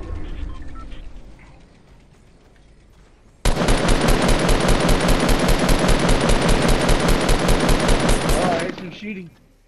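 Rapid automatic gunfire in the video game Fortnite erupts suddenly after a quieter stretch and hammers on in a steady fast rhythm for about five seconds, loud and close, then cuts off.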